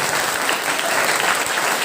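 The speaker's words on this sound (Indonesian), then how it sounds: "Tepuk tangan untuk kita semuanya" A crowd at a school Isra Mi'raj religious gathering applauds everyone, a brief, loud, dense burst of many hands clapping that stays even and continuous throughout, with no voices heard over it.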